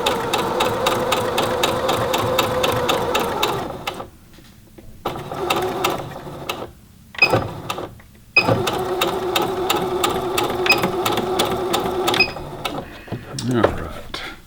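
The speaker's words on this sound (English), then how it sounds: "I went ahead and sewed that off there to show you how it won't tangle if you sew off of your fabric." Singer Heavy Duty 6800C sewing machine stitching at a lengthened stitch, a steady fast mechanical chatter in several runs with brief pauses between, loud and close.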